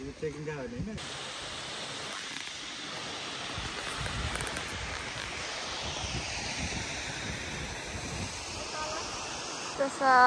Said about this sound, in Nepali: तल खोला बगेर गएको छ।